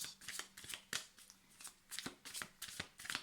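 A tarot deck shuffled by hand, with repeated crisp riffling and flapping bursts coming in an irregular rhythm, close and fairly quiet, with no talking.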